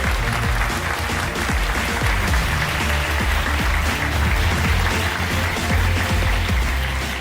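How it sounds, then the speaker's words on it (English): Loud, sustained applause from an audience at the GT World Series Round 2 Manufacturers Cup prize ceremony in Tokyo, a dense, steady clatter of clapping that holds evenly for about seven seconds. "let's give them a huge round of applause"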